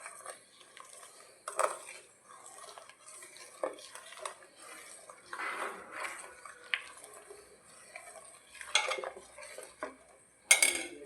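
A spoon stirring semiya payasam in a pot, with intermittent scraping and clinking knocks against the metal at an uneven pace, quiet and close, no talk.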